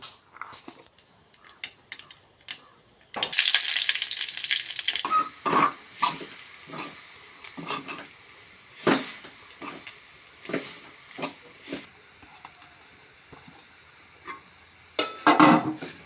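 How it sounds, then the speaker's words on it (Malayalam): Hot oil sizzles with irregular sharp pops and crackles, a loud burst early on, then scattered spluttering bursts that come and go. "ഞാനൊന്ന് കടുക് പൊട്ടിക്കുന്നു"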